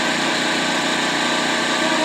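A Predator portable generator engine runs at a steady idle, a continuous even drone with no pauses, fairly loud and close with no talk over it.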